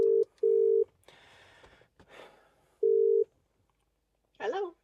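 A car phone call rings back through a BMW with an upgraded Logic 7 system and a Bimmertech Lightwave DSP amplifier, giving short repeated electronic ring tones in pairs with gaps between them, while a voice speaks briefly.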